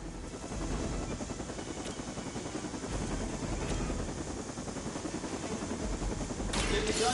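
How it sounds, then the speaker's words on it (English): Helicopter about to take off in the PS5 video game Midnight Suns, a continuous rotor drone with a rapid chopping pulse, steady and fairly loud, with a brief sharp burst near the end. "The helicopter is about to leave."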